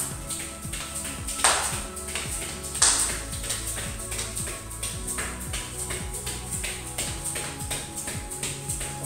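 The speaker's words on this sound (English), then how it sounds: "Come on, let's hear that knee clap." Rhythmic knee claps from a partner workout exercise repeat steadily over backing music, with a couple of sharper, louder slaps standing out near the start.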